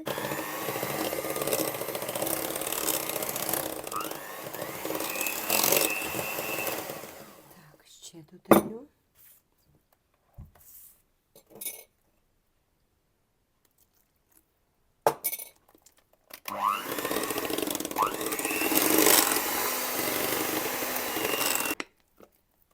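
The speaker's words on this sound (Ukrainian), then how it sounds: "Я поступово його буду додавати і взбивати." An electric mixer whips mascarpone with agar-agar into cream for an Oreo cake. It runs in a steady whirring drone for several seconds, goes quiet except for a few light knocks, then starts again for another long stretch.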